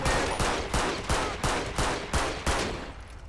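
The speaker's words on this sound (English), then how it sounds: "Shots fired! Shots fired!" Gunfire in GTA 5 with the LSPDFR police mod during an LAPD night patrol: seven or eight evenly spaced, loud shots ring out in a steady rhythm, each with a short decaying tail, close and without talk.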